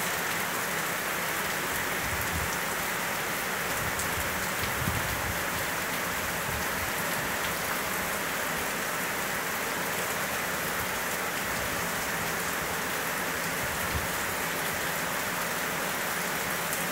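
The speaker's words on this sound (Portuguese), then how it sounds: "Hoje a chuva traz tanta felicidade pra gente que a gente se emociona." Steady rain pours down in the countryside among mountains, a dense, even hiss of drops on surfaces lasting throughout with no talk.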